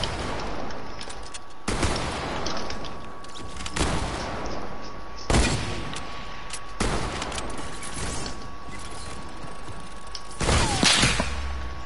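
Sniper gunshots in a video game, loud sharp cracks spaced a second or two apart, about seven in all, over a steady background hum and a thin electronic tone.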